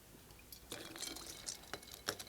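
A geoduck clam is dropped into an ice bath, giving a few brief splashes and watery sloshes close by, the sharpest one near the end.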